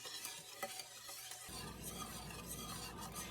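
Cream gravy is stirred in a hot pan, a spoon scraping and swishing through the thickening liquid over a soft sizzle that grows fuller and denser midway through, fairly quiet and close with no voices.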